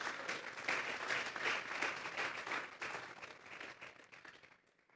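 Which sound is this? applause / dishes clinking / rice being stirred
applause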